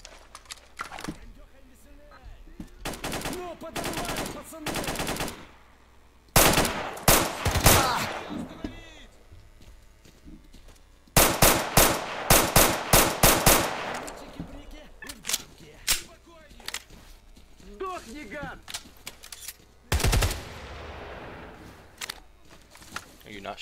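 Gunfire in the S.T.A.L.K.E.R. Call of Chernobyl game, with several sharp bursts of rapid automatic shots separated by quieter gaps, and someone talking between and over the volleys.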